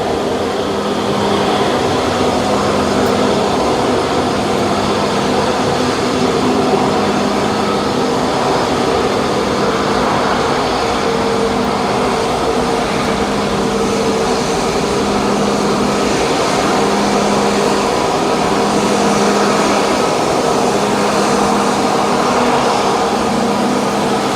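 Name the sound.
Air India airplane taking off at Mumbai airport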